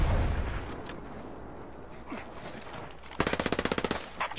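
In a PS4 shooter video game, scattered distant shots give way to a close, rapid burst of automatic fire near the end, with no talk over it.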